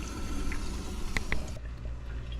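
Water sputtering from the faucet of an under-sink reverse osmosis system as trapped air is purged after a filter change, a steady hiss with a couple of brief spurts, close by and alone.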